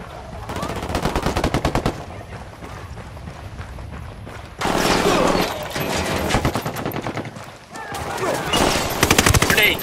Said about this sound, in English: Opening fire on these fuckers.